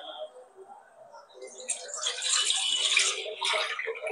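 Water is poured into a pot in a kitchen, a soft trickling splash that builds into a fuller, steadier pour for a few seconds, with faint voices nearby.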